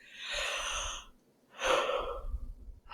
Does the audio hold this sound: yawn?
yes